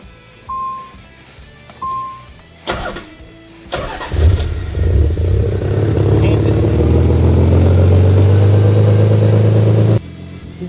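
A Nissan 300ZX with a VG engine and upgraded cams starts up, followed by a warning chime and door clunks; the engine then builds into a loud, throaty idle and rev that holds steady, with someone talking over it.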